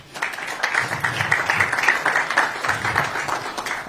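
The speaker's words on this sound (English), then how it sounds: "A round of applause, please." An audience at a Lagos government workshop on maritime matters breaks into a round of applause, brisk, fairly close clapping from many hands that holds steady for several seconds.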